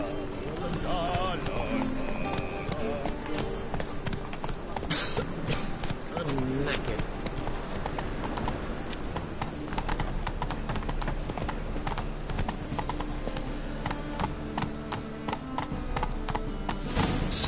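Roach the horse gallops in The Witcher 3, with fast, rhythmic clip-clop hoofbeats running continuously alongside game music and someone speaking over them.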